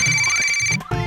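A mobile phone ringtone plays loudly and close, a bright electronic tone with a repeating melodic pattern that breaks briefly near the end before resuming.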